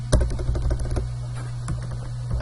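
Rapid typing on a computer keyboard, close and fairly loud, with irregular bursts of key clicks and no talking.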